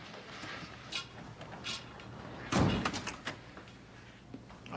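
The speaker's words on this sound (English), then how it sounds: "Close the door, Tony." A door shuts with a single loud thud near the middle, set against a quiet room with faint background sounds and a few softer knocks before and after.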